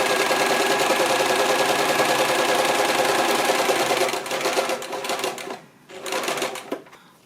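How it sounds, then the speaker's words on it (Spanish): A sewing machine runs a fast, steady rattling stitch along a trouser waistband seam, loud and close, then slows, pauses briefly, and resumes in shorter bursts. "vamos a asegurarnos de pasar por aquí un pespunte"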